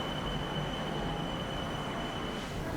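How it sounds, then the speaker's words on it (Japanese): Steady train interior rumble on a Bangkok rail ride of two stops to Phrom Phong station, a continuous low drone with a faint high whine, no voices. "では2駅電車に乗ってプロンポン駅まで。"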